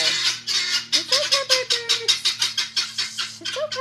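Pet chickens squawk and cluck in an agitated burst after being startled by a passing airplane, a rapid series of loud, close, rhythmic calls over a steady low hum.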